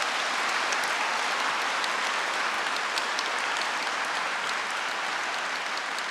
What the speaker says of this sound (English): A huge round of applause to all the support provided by Edinburgh Napier University